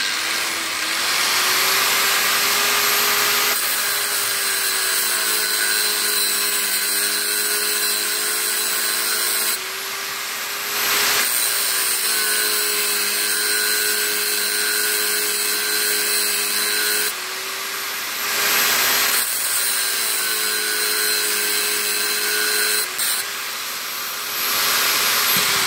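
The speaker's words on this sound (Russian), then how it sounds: "Так, аккуратненько надо сейчас пильнуть, так, чтобы кардан не запилить." Saw cutting through a rusted, dried-out carrier bearing race beside a car driveshaft, a steady loud rasping grind in long continuous strokes with a few brief pauses, no talking.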